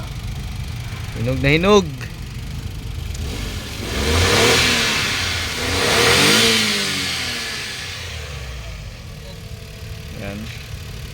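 A Suzuki DA17W van engine runs and revs, rising in two broad swells of roar mid-clip, with people talking before and after.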